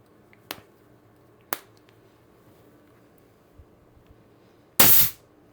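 An X-68 Punisher air gun with a stainless steel barrel and extension fires at about 1100 psi, shooting a 9.9 gram ball. Sharp isolated pops are separated by quiet gaps, and the last report is the loudest and longest.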